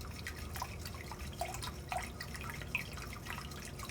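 Whiskey poured steadily into a mixing bowl while making homemade Irish cream liqueur, heard as soft continuous trickling with scattered drips, fairly faint and close.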